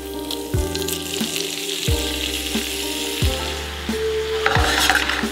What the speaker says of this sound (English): I'm just mixing up all the garlic and the steak seasoning, getting that all stir fried